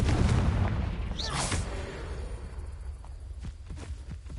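A Confringo blasting spell explodes in the Hogwarts Legacy video game, a loud booming burst with a whooshing flare early on, fading into rumbling aftermath and a few scattered thuds.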